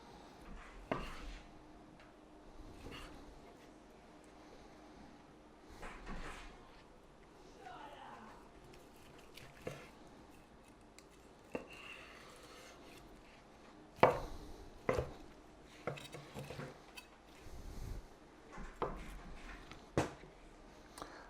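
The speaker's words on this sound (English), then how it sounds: "Cut these in a nice bite-sized burn-end style." Knife cutting smoked caramel pork belly burnt ends into bite-sized pieces on a board, a series of scattered soft thuds and taps mixed with occasional speech.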